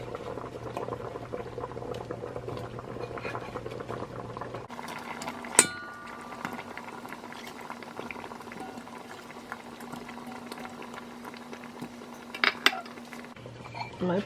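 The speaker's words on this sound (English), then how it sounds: "We're going to cover it and let it continue to simmer." Jamaican-style vegetable rundown simmering in a covered pot, a steady low bubbling hiss throughout, with a couple of brief lid or utensil clinks near the middle and end.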